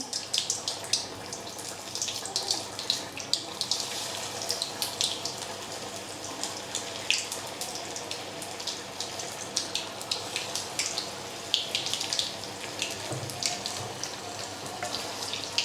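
Vada pav balls sizzling in hot oil in a Pune-style kitchen, a steady bubbling hiss with crackles throughout, moderately loud and continuous with no voices.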